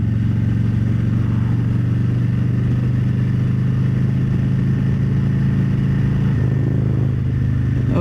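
A motorcycle engine drones steadily and loudly while riding on local twisty roads in summer, a continuous close mid-pitched hum with wind rush and a slight change in pitch near the end, and no talk.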